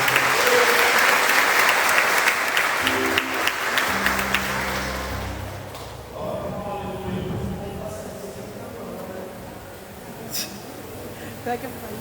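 A Portuguese-speaking evangelical congregation bursts into loud, dense applause during a church service, which tapers off after about four seconds as voices and speech take over, with a few stray claps later.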